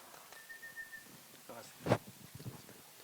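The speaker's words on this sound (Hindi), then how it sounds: "सीटी बजाने में बिजी है।" An audience member whistles a single thin, steady note for under a second, fairly faint beneath crowd murmur and a nearby voice, followed later by a louder burst of noise.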